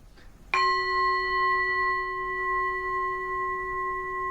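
A Tibetan singing bowl is struck once and rings on with a steady, clear, sustained tone that slowly fades, close and alone in a quiet room.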